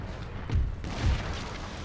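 Cannon and musket fire in the Imperial Splendour game, Prussian campaign, rolls out as two deep, muffled booms about half a second apart over a steady battlefield rumble, heard at a distance.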